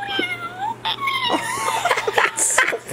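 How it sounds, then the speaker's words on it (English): A cat meows repeatedly, several drawn-out, wavering, whiny calls close by, mixed with rustling and handling noises, with a person speaking briefly. "Cat."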